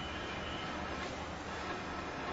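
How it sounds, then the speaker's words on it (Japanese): A 209 series 500 electric train runs on the Chuo-Sobu line, a steady loud broadband rumble of wheels and motors heard from inside the car. "電車は中央総武線各駅停車三鷹行きです。"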